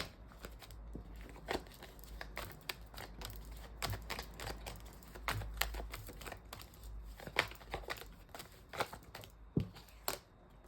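Rapid, crisp papery riffling of tarot cards being shuffled close by, coming in irregular bursts of snaps and flutters against a quiet background.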